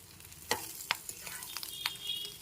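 Fried fish roe is broken up and stirred in a hot wok with a faint continuous sizzle, punctuated by a few sharp spatula knocks and scrapes against the metal, close and without speech.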